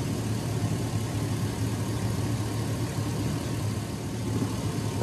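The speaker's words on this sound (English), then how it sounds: "I'm gonna go ahead and start the truck, let it run for a minute" A 2002 Chevrolet Silverado pickup with a 5.3L V8 idles steadily close by, a continuous low rumble with an even drone and no speech over it.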